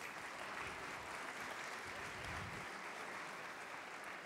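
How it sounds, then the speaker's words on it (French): An audience at a cooking contest event applauds the competing candidates, a dense, continuous wash of many hands clapping that holds steady and fills the room from start to finish. "vous pouvez les applaudir."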